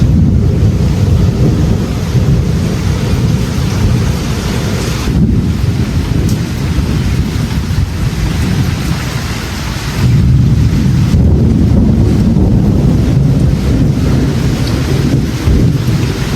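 Heavy rain pours steadily outdoors, a loud dense hiss with low rumbling gusts underneath that continues without a break and without voices.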